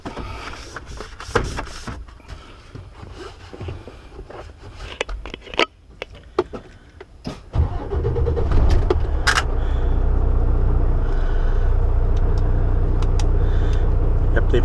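Scattered clicks and shuffling in a semi-truck cab, then the truck's engine turns over and settles into a loud, steady low rumble that continues to the end.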